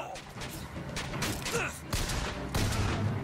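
Gunfire from a first-person shooter, BioShock Infinite, with several sharp shots spaced across a few seconds amid game noise and effects, loud and close, while a player talks over the action.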